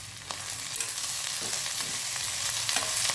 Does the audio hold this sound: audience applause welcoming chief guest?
no